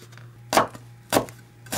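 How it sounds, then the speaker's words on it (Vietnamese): Three sharp knife chops mincing lemongrass on a cutting board, spaced evenly about half a second apart, close and distinct against a quiet background. "còn 2/3 thì mình băm nhuyễn để phi thơm"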